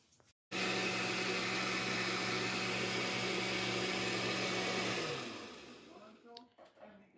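Kitchen blender grinding chiles for a homemade sauce, a loud steady roar running for about four and a half seconds before winding down, followed by faint handling noises.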